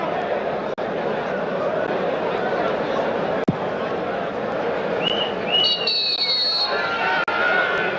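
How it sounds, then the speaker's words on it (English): A referee's whistle blows for half-time in short shrill tones over steady crowd noise at Middle Park stadium during a 1990/91 National Soccer League match, with a commentator speaking. "Whistle sounds for half-time."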